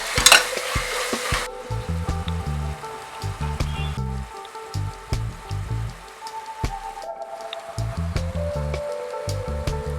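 Ingredients for a mushroom biryani are sautéed and stirred in a pan, producing a crackling sizzle broken by repeated stirring strokes, with a tonal background running underneath.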